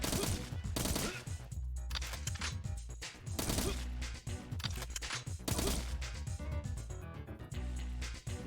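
Rapid gunfire bursts in the shooter game Agent 64, dense clattering shots layered over game music and effects, continuous and busy for the whole stretch.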